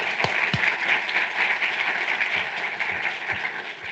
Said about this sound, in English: So we should give HIP an applause for the 20th anniversary.